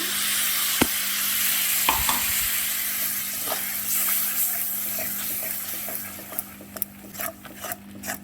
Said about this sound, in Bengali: আবারও কষে নেব ভালো করে।